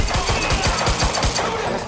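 Rapid automatic gunfire from a firefight in the video game Quantum Break, a steady burst of about ten sharp shots at an even rhythm, loud and close with no talk over it.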